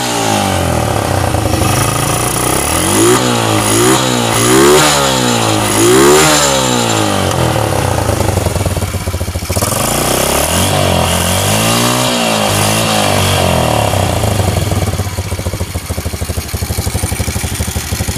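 A Honda Revo Absolute motorcycle engine sits close by, revved repeatedly in rising and falling bursts between rough idle stretches, loud and alone with no talking.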